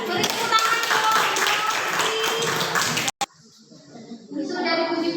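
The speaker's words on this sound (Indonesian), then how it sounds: "Beri tepuk tangan dong." Classroom group clapping their hands for a presenting group, dense sustained clapping for about three seconds before stopping abruptly, followed by quieter room sounds and faint voices.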